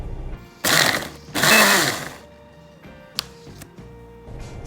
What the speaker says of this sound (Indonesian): dan blender kasar.